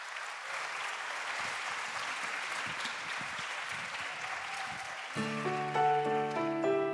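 Steady crowd applause after a children's choir performance in Ollolai, a full, even roar of many hands clapping for several seconds, with keyboard music starting up over the last couple of seconds.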